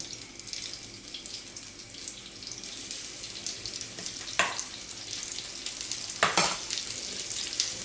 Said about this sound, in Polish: tłuszcz jak jest rozgrzany, to słyszymy, że taki odgłos